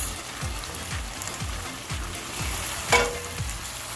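Sausage and peppers sizzling in a pan as vegetables go in, a steady crackle under a regular series of soft stirring knocks about every half second, then one sharper clatter near the end.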